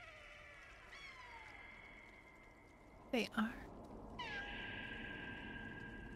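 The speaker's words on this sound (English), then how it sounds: "Are they meowing for me?" Cats meow in the video game Stray, with drawn-out, mournful calls at the start and end and a sharp thump in between, while a player speaks briefly over the faint in-game ambience.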